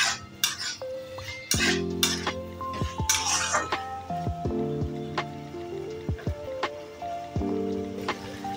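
Potato being sautéed in oil in a pan for a fasting-day rice dish, with a spatula clinking and scraping against the metal pan in irregular strokes over a faint sizzle, close and moderately loud.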